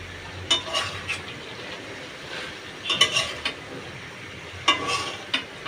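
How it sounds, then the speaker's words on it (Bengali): Potatoes and flat beans being sautéed and stirred in a pan for a curry, with scattered scraping and clinking strokes of a spatula over a faint low sizzle. "সিম দিয়ে সুন্দর করে তরকারিটা আবারও কষিয়ে নেব,"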